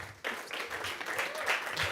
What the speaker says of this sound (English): Just another round of applause for all of these amazing finalists